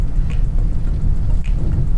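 Heavy rain falls steadily on a trip down from Phu Thap Boek in Phetchabun, Thailand, a loud, dense rushing wash with scattered louder drop impacts.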